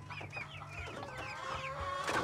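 Backyard chickens, native birds crossed with Rhode Island Red, clucking continuously up close in short overlapping calls over a low background rumble.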